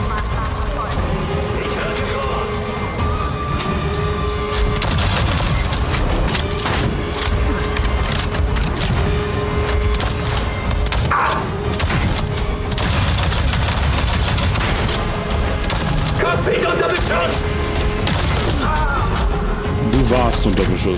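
Dense gunfire in an Avatar video game, rapid bursts of shots crackling continuously alongside booms, with voices talking over the battle throughout.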